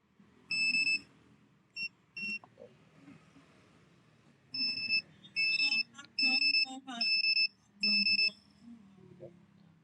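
A 2020 Yamaha NMAX smart key alarm gives bursts of high electronic beeps, some single and some rapid doubles, in an irregular pattern, with faint talk and room noise underneath.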